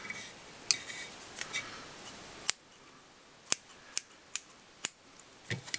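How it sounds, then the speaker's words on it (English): Scissors snip excess fly-tying material for a Banana Opossum Zonker, several sharp, quiet clicks spaced irregularly and close up, with faint rubbing between cuts. "I'm just going to snip them off"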